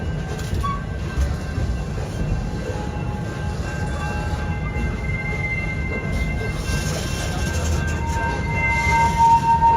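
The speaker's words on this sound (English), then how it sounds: "We are now pulling back into the Nairobi train station." A Busch Gardens Florida park train pulling into its station rumbles steadily along the rails, with faint high wheel squeals and a low, continuous rolling drone that swells slightly near the end.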